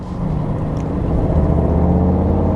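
A 2024 Mercedes-AMG GT 63 Coupe in Sport Plus mode gives a steady, loud engine drone with a slight build in intensity, heard from inside the cabin with a window partly lowered.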